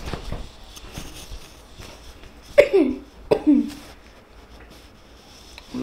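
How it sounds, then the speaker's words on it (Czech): Two sharp, close coughs break through a quiet room, one right after the other, with faint rustling and small handling noises around them. "Omlouvám se, mám kašel."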